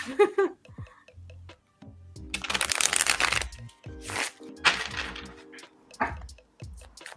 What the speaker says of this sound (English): You can hear me shuffling.